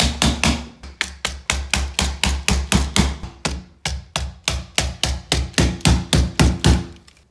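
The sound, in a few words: plastic anchors tapped into drilled holes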